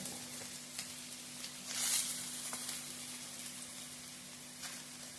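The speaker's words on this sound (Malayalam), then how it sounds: "സവാള ഇട്ട് കൊടുക്കുക. സവാള ഇട്ടൊന്ന് നന്നായിട്ട് വഴണ്ട് വന്നതിന് ശേഷം ബാക്കിയുള്ളതൊക്കെ നമുക്ക് ചേർക്കാം." Sliced onions sizzle softly in a hot pan for Kerala chicken perattu, a steady low hiss broken by a brief louder crackle of stirring, fairly quiet and with no voices.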